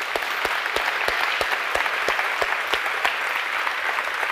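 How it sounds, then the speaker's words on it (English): A tech conference crowd at CodeConf applauds, steady dense clapping from a large room that holds an even level throughout, with no voices on top. "I just want to give a huge round of applause to the Atom team for really making this happen and the community"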